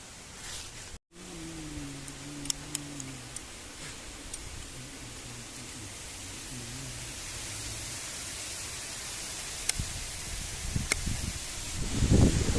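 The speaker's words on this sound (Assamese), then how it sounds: "এনেকুৱা বতাহ দিছে জুই নজ্বলিছে" Steady outdoor wind gusting around a campfire that won't stay lit, a continuous broadband rush with faint ticks and rustles, building slightly louder toward the end.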